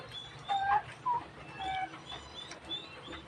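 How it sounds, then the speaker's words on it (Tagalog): Pet turkeys kept at a home give short, tonal calls and chirps, a few separate bursts spread over a few seconds against a steady low background, moderately near with no talking. "Ito yung mga laga kong pabo."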